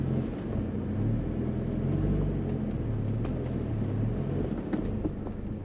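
4x4 with a front diff locker crawling up a rocky off-road section, a steady low engine drone inside the cabin with faint creaks and knocks from the rocks, continuous and fairly loud, no talking.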